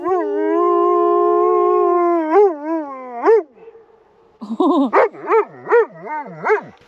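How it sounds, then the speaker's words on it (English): A dog named Jackson howls at a TV on a sailboat, a long, steady, rising howl followed by a string of shorter wavering yips and howls, close and loud with no talking. "if any of your dogs watching at home are anything like Jackson, they're likely howling at the TV right now"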